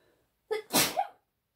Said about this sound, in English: Not sure why all the sneezing this morning.